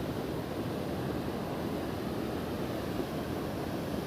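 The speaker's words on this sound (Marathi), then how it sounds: "जरा धबधब्याचा हव्याचा आवाज जास्त येईल" A steady, dense roar of rushing water from the Ukhalu waterfall at Chandoli fills the whole clip without a break, close by, broad and constant with no voices.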